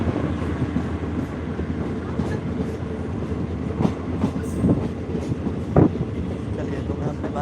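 A passenger train runs along the rails between Bajpatti and Muzaffarpur in Bihar, India, with a loud, steady rumble from inside the carriage and scattered clacks and knocks from the wheels.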